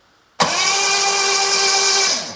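A hot-wired starter cranks a Jaguar X engine that may have a failed head gasket. After a sharp onset the engine spins over quickly in one loud, steady, close whir for about two seconds, then it tapers off.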